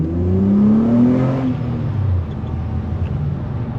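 A Pontiac GXP engine revs hard on a backroad pull, rising in pitch and then easing off as the drone fades into steady road and tire noise.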